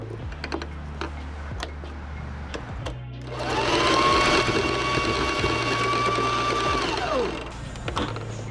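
A sewing machine stitching the inner leg seam of a McCall's M7757 garment whirs steadily for about four seconds in the middle, with light handling clicks before and after.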